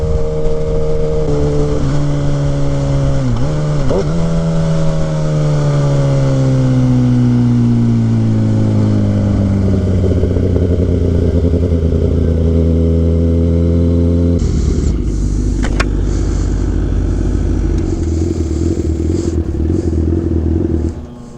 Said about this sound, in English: this is probably the fastest bike I've ever ridden in my life